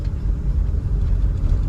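A Suzuki Mehran car drives along an empty road, its engine a steady, close, mid-pitched rumble with continuous road noise and no voices.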